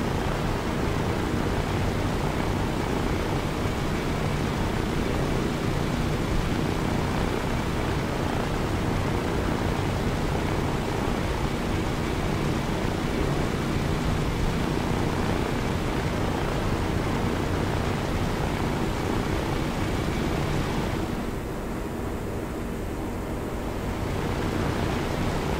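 Aircraft engine in the Arma military game during a night air assault, a steady broadband drone that fills the whole stretch, loud and unbroken, with a slight dip near the end.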